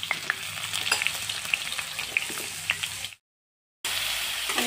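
Potatoes fry in mustard oil in a wok with a dense, close sizzle and scattered spatters and pops, then cut to silence briefly before the frying hiss resumes.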